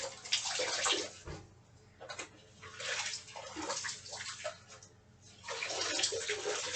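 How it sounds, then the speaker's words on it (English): Water is poured and splashes in bursts into a vessel during a Sabbath ritual, quiet and close, with gaps between the pours and no talking. "Now it's holy water."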